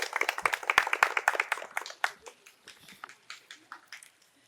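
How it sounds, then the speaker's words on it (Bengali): Spectators at a quiz competition held at Santiniketan Medical College and Hospital break into brisk applause that starts dense and loud, then thins into scattered individual claps as it fades. "সকলে একটু করতালি দেবেন"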